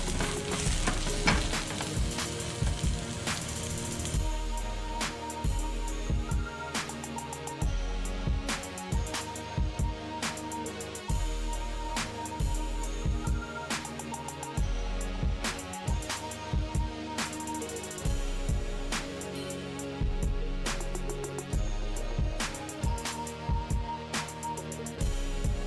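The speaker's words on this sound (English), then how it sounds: "while I got ground beef browning away" Ground beef browns in a hot pan with a constant, even sizzle and frequent sharp clicks and taps from stirring, close and steady throughout; no one speaks.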